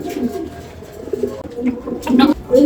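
Racing pigeons coo in soft, repeated bursts from close by, with several low throaty calls overlapping across the stretch and a faint murmur of other birds behind them.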